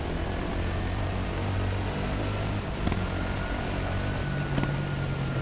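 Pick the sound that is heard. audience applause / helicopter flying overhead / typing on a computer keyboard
helicopter flying overhead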